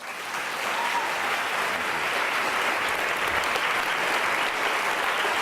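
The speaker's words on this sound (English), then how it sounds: "Please give a warm round of applause to Raj Patel." Loud, sustained applause fills a lecture hall as an audience welcomes a speaker, steady clapping from many hands with no talk over it.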